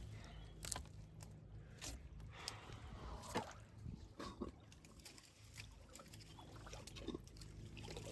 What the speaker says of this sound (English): That is the sound of the suction under my boot.